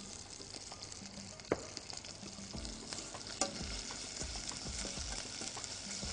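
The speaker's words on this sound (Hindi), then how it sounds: "अब जैसे लहसुन तलना शुरू हो जाए, आप 1 टेबलस्पून सिरके का पैन में डाल दें।" Garlic frying in a pan with a tablespoon of vinegar added, a steady sizzle with stirring scrapes and a couple of sharp clinks, moderately close, with no talking.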